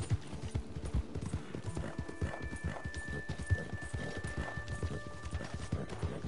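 Horse hooves clip-clop steadily in Red Dead Redemption II as a lantern-carrying horse is ridden at night, a continuous rhythmic trot at moderate level with occasional whinny-like tones and game sounds behind it.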